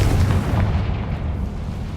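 A Confringo spell explosion in the video game Hogwarts Legacy, a loud, deep booming blast with a sustained low rumble that fills the moment, heard alone.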